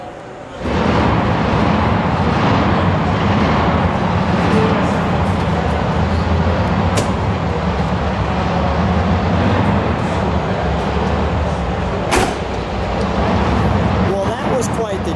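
A 1970 Plymouth Road Runner with a 426 engine fires up under a second in and keeps running with a loud, deep, steady rumble, while people talk nearby.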